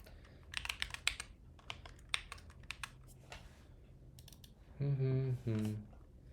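Quick clicking keystrokes on a Moonlander split keyboard come in a close, crisp flurry, then stop as a person starts talking near the end.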